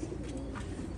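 A pigeon kept in a home loft gives a soft, low, throaty coo. It is close but faint, with a steady background hum and no voices, over about one second.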